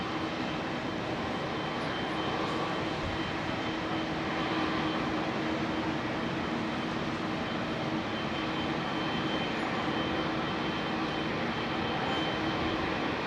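A Boeing 747 jumbo jet passes overhead near London Heathrow Airport, a steady broad engine roar with a low drone that stays loud and even throughout.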